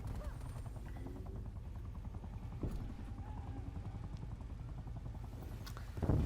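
Attack helicopter in the Call of Duty Black Ops Cold War multiplayer game, a steady rotor thrum chopping continuously throughout at moderate level, with a brief louder burst near the end.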